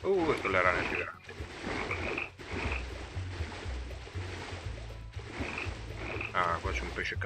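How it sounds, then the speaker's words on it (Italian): Large frogs croak repeatedly in a game level with an underwater setting, a continuous low pulsing chorus running throughout under a layered game soundtrack, with someone talking over much of it. "Sono le rane più grandi."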